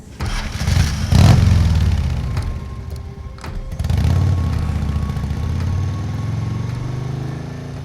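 A motorcycle engine cranks and catches, revs up loud and close, then settles into a steady running drone as the bike pulls away, used as an audiobook sound effect.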